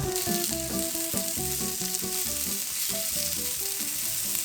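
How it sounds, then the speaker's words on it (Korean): Sliced onion stir-fries in two spoonfuls of cooking oil over medium heat, a dense, continuous sizzle that stays close and even throughout, with a light melody playing underneath. "식용유 2숟가락 넣고 중불에서 양파를 볶아줍니다."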